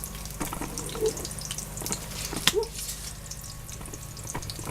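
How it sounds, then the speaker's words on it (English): Chicken browning in a skillet for chicken Parmesan gives a soft, steady sizzle with faint pops and a few light clinks, fairly quiet and with no one talking. "So there they are in the skillet. And I'm going to brown them off"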